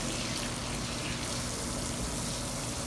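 Hot water sprays steadily from a shower sprayer aimed at a small dimple, a continuous broadband hiss that holds even and fairly loud throughout with no talk.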